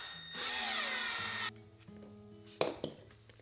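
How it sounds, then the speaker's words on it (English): Power drill whirring steadily for about a second while pre-drilling screw holes for pull tabs on a wooden drawer front, then stopping, followed by a few faint clicks and knocks. "I can go ahead and pre-drill the holes and then install the screws."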